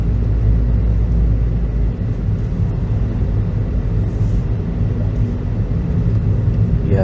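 A car pulls out of a roundabout, a steady low engine and road rumble heard from inside the cabin, continuous and fairly loud with no speech.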